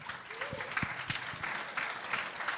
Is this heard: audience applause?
yes